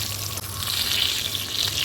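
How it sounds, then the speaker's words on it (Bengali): Pieces of pointed gourd (potol) fry in hot oil in a pan with a steady, close hiss and sizzle, broken by one brief dip near the start, with no voices. "পটলগুলোকে আমি ফ্রাই করার জন্য বসিয়ে দিয়েছি"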